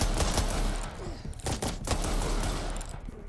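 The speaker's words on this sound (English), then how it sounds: "As you can see, it is a 6-shot quick fire." Rapid gunfire from a six-shot quick-fire weapon in the RE:Verse video game, a fast burst of sharp shots repeating through the clip at steady loudness with no voices.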